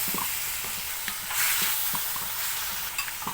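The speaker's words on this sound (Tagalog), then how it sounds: "Halo-halo lang." A spoon stirring pork hamonado in a pan: a steady frying sizzle with scraping strokes and a few small clinks, close up and without voices, swelling briefly partway through.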